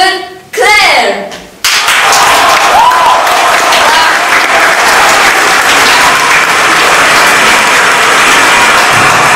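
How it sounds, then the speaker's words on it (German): A studio audience bursts into loud, sustained applause for a guest on a talk show, a dense wash of clapping that keeps going without letup after a brief musical sting and a host's introduction. "Ein riesen Applaus"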